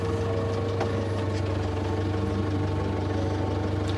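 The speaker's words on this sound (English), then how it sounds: "And this is our big tractor. It's a 105 horsepower Kubota." A Kubota M105X 105-horsepower tractor engine runs steadily on a farm, a close, continuous low idling rumble with vibration and no talk.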